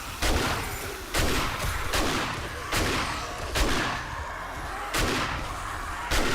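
Repeated gunfire in the video game 7 Days to Die during a blood moon horde night, six loud sharp shots spaced about a second apart, each with a booming tail over steady background noise.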